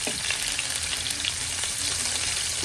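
Chopped onions frying in hot oil in a pan for a binagoongan and pakbet dish, a steady close crackling sizzle with faint stirring, no voices.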